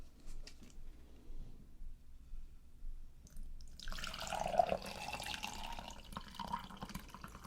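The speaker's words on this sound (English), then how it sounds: "Now we pour the water." Water poured from a kettle over loose leaf tea in a black mug, a soft steady pouring and trickling that starts a few seconds in and keeps running close by, quiet and unbroken.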